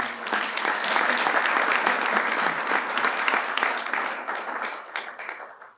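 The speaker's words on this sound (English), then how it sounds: "let's give her a round of applause" A banquet crowd at the Ohio Golf Hall of Fame induction ceremony gives a golf inductee a warm round of applause. The dense, even clapping holds steady for about five seconds before tapering off.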